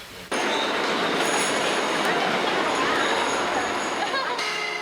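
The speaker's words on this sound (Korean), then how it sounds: "그날 번개 조태훈은 지하철역에 있었다" A subway train in a subway station: after a brief quiet start, a loud steady roar of the train with faint high wheel squeal and rattling persists for several seconds.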